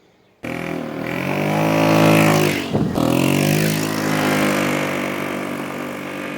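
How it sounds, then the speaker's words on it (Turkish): A Honda PCX 150 scooter's engine starts up and runs steadily, its low harmonic drone briefly dipping before settling into a constant close-up hum. "Motor sesimiz güzel."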